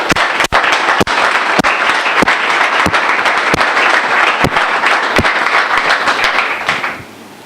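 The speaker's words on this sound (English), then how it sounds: "let's just give everyone a round of applause who is here tonight" A round of applause at the CFA Society Istanbul charter award ceremony fills the room, dense, loud and steady, with a few sharp individual claps standing out before it tapers off at the end.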